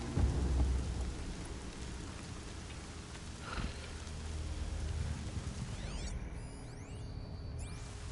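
Rain and thunder in the video game Horizon Zero Dawn: a constant wash of rainfall with deep rolling thunder rumbles underneath, heard alone without speech.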